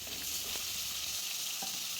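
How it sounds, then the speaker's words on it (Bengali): Hilsa fish pieces rubbed with salt and turmeric frying in oil, a steady close hiss of sizzling with faint spatters throughout, no voices. "একে একে মাছগুলোকেও ভেজে নিব।"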